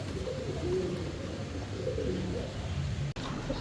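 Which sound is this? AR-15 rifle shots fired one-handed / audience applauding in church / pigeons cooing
pigeons cooing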